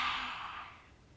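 A single soft breath is pushed out through the open mouth with the tongue stuck out during a Kundalini and Vinyasa yoga class, a faint airy whoosh that quickly fades away.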